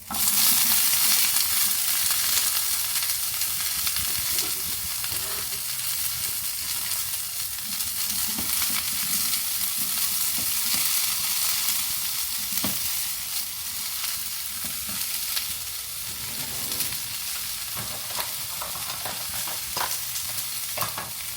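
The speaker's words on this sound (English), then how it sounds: "I rinsed it, I trimmed it, now I'm adding it to the heat." A pound of rinsed, trimmed asparagus frying in a hot pan, a loud, steady sizzle that runs throughout, with occasional stirring scrapes close up and no talking.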